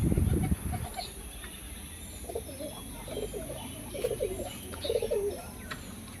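A pair of crossbred Pakistani tournament pigeons coo softly in a run of low, throaty calls after a brief sharp rustle, set against a quiet indoor hum.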